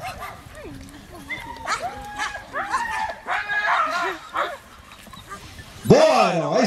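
A police working dog gives short yips and whimpers amid people talking and cheering nearby, ending with a louder, sharper bark-like cry.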